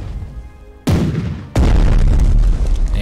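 Heavy booms come from artillery fire in the WWII strategy game Strategic Mind: Blitzkrieg. There are two loud, near blasts about three-quarters of a second apart, and the second leaves a long rumbling tail over the first blast's fading echo.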